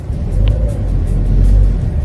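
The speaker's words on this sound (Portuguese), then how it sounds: "Vamos levar esse carro para dar uma volta agora e ver como é que é." A Ford Fiesta 1.6 engine rumbles steadily as the car sets off for a drive, a close, even low hum with no talk.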